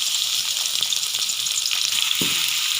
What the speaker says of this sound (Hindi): 2 प्याज शामिल कर देंगे दरमियाने साइज़ के।